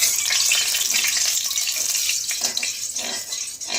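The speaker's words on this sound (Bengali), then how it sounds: "আর এদিকে দেখো মাছটা আমি ভাজতে দেব। কড়াটা গরম হয়ে গেছে।" Pabda fish frying in a hot wok of oil, giving a dense, loud, steady hiss and sputter that fades slightly toward the end, close up with no talk.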